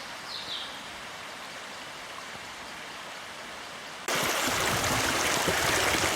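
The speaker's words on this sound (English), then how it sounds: "Here's the stream, that lovely sound of running water." Running water of a stream at the bottom of St. Mary's Vale near Sugar Loaf, a steady broadband rush that jumps abruptly louder and closer partway through, with no voices.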